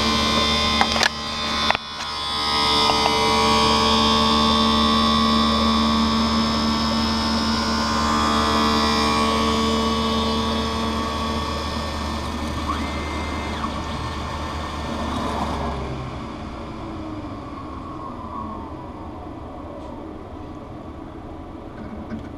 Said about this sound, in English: So the lens is dropped down onto the cutting wheel.